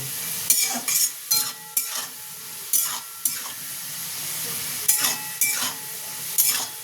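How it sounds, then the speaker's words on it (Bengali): Potatoes sizzle steadily in a hot pan while a spatula scrapes and stirs in regular strokes, loud and close. "আমার আলুটা প্রায় ভাজা হয়ে গেছে, আর একটু ভাজা হয়ে যাক"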